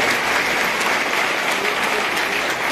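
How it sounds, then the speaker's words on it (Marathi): Audience applause welcoming an honoured doctor and his wife at a Buddhist gathering, a dense, steady wash of many hands clapping at once, loud and sustained throughout with no voices over it. "आपण सन्माननीय डॉक्टर हर्षदीप कांबळे आणि त्यांच्या सुविद्य पत्नी रोजाना कांबळे मॅडम यांच्यासाठी टाळ्या वाजवून त्यांचं स्वागत करावं अशी विनंती आहे"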